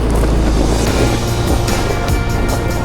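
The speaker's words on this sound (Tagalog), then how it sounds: "Hirap na hirap yung motor." Boat outboard motor straining near a waterfall, a loud close labouring drone mixed with wind buffeting and splashing water.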